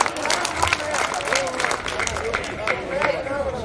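An audience at a Hindi poetry recital claps in a dense, continuous patter of many hands, with crowd murmur and voices mixed beneath the applause.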